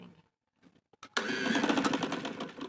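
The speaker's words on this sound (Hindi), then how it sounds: "यहाँ से पक्का करने के बाद हमें दोबारा से सिलाई मशीन में से कपड़े को निकालना नहीं है" A domestic sewing machine stitches trouser fabric while attaching elastic: a few faint clicks, then a steady fast mechanical whirr running close and alone.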